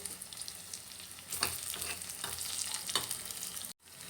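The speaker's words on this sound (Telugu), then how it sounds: "ఇవి మంచిగా ఫ్రై అవ్వాలి ఆనియన్స్ ఇలా మంచిగా ఫ్రై అయిన తర్వాత" Onions fry in a pan with a constant soft sizzle. Occasional scraping bursts come from stirring, heard close up.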